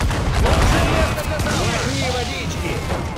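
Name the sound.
ship cannon volley in video game Assassin's Creed IV Black Flag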